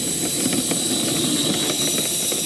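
An RC F35 Harrier model jet engine running during a taxiing test on a freshly mowed grass field, a loud, steady turbine roar and hiss, close by and continuous.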